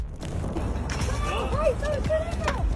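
A shop door is pushed open with a drawn-out creaking, squealing hinge over a low rumble of background noise, a few wavering squeaks over about three seconds.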